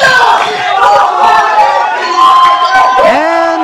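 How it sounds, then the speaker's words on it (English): A wrestling crowd cheers loudly for a wrestler at a live indoor match, a dense roar of many voices with shouts and whoops rising above it, steady throughout. "And the crowd cheering for Benny Bangle."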